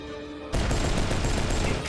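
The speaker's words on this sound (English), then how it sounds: "While out shopping, our friend, Mr. Puggins, suddenly hears screams and gunfire." Gunfire in a Cyberpunk 2077 TV ad, a sudden loud burst of rapid shots that cuts in after a brief tonal lead-in and continues as a dense, sustained volley.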